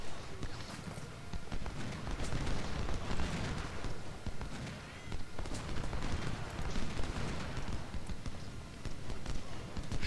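Musket volleys from Civil War infantry at the Battle of Bull Run in Ultimate General: Civil War, a dense, continuous crackle of gunfire with rumbling battle noise and hoofbeats throughout.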